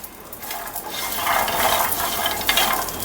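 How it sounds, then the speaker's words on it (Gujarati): Garlic cloves being turned and tossed in a dry pan, giving a steady scraping, rattling stir with light clatter against the metal, close and continuous with no talking. "તો આપણે બેથી ત્રણ મિનિટ તેને આ રીતે પલટાવીને કરી લઈશું તો આ રીતે આપણે પલટાવતા જવાનું છે"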